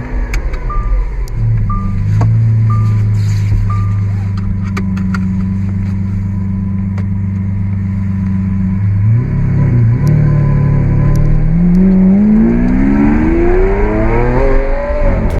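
A Lamborghini Aventador SV Roadster's 6.5-liter V12 in a Need for Speed game holds a loud, steady rumble, then climbs sharply as it revs and accelerates. No voices are heard.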